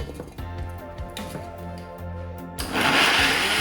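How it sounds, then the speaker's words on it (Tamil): A mixer grinder grinding chopped dates, motor whirring in uneven bursts with knocking as the pieces catch, then rising to a louder, steady grinding roar. "டேட்ஸையும் ஸ்மூத்தாக அரைச்செடுக்கணும்."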